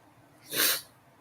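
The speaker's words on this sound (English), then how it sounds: "I might sneeze quite a bit during this stream" A single sharp human sneeze bursts out alone at moderate loudness during a livestreamed mental health talk, a short breathy blast with quiet room tone before and after.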